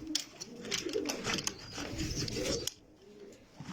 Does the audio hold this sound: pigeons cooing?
yes